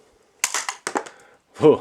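A few quick snapping clacks of a Nerf Star Wars Chewbacca Bowcaster firing a foam dart, followed by a short thud, close by with a voice briefly at the end.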